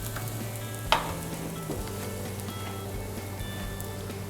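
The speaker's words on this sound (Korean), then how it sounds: "자, 이렇게 지글지글 익고 있죠." Vegetables sizzle quietly in a pan beside a salmon steak, a soft steady frying hiss with a brief clatter of a utensil near the start.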